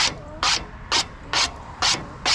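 Scales are scraped off a crappie or catfish on a cleaning board in six rhythmic, evenly spaced rasping strokes that sound close and steady.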